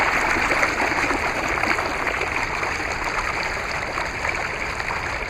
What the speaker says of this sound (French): On va entendre le son de l'eau.